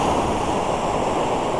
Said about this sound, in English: We got a lot of slop. Water's coming back from the surf.